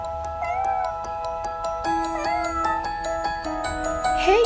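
Several cats meowing as they come toward a room for food, overlapping drawn-out, wavering meows close by over a steady tonal background with regular faint ticks.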